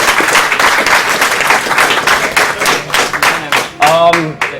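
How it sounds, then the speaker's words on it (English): A crowd at a live speedrunning event claps loudly and steadily in a dense wash of applause, with voices mixed in and an excited cheer near the end. "I couldn't hear because everyone was clapping"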